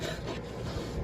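A new high-carbon stainless steel kitchen knife cutting through food on a board, a short continuous rasping, scraping stroke heard up close.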